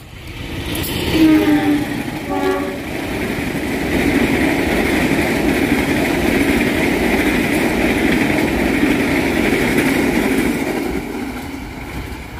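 A parcel train rolls steadily along the rails with a continuous rumbling roar. A few metallic clacks come early, then a long even drone fades slightly at the end.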